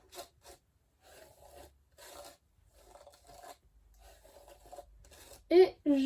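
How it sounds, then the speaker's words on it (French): Hairbrush dragged through knotted hair in short scratchy strokes, soft and close, repeated several times between quiet pauses, with a louder rustle near the end. "Je vais prendre ma brosse parce que c'est vrai que moi j'aime bien repasser un petit coup de brosse dans mes cheveux."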